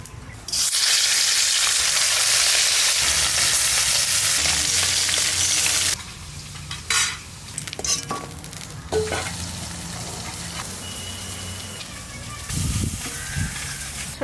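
Kajli fish frying in mustard oil over a garden cooking fire: a loud, steady hiss of sizzling fat for the first several seconds, then quieter crackling and occasional stirring clatter.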